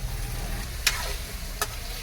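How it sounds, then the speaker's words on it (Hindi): Mushrooms frying in a pan with onion, garlic and chilli, a steady soft sizzle with a couple of brief scraping stirs, fairly quiet and close, no talking. "अब देखिए हाफ में और ये मशरूम डला के भुजाएगा।"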